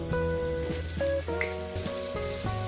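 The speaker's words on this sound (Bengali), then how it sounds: "সুন্দর করে আমি আলুগুলো ভেজে দিচ্ছি" Potatoes frying in a pan give a moderate, continuous sizzle with light crackles. A tonal ringing hum sits underneath, and no voices are heard.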